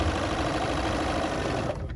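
A sewing machine stitches a fabric seam with a fast, steady mechanical whir and rapid needle chatter, running loud and close without a break until it starts to ease off near the end.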